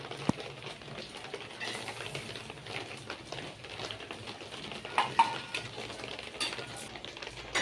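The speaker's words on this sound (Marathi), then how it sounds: "आता आपलं खोबरं पण भाजून झालंय." Dry coconut pieces roast in a pan, with soft scraping and stirring against the metal and a faint dry sizzle, close and fairly quiet.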